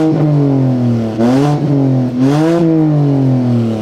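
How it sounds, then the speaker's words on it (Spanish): The modified exhaust of a white 2011 BMW 523i, converted to M Competition styling, revs up loudly and deeply twice, rising and falling with a strong, close, continuous engine drone. "Vamos a acercar un poquito para acá para que escuchemos el sonido de la moflería"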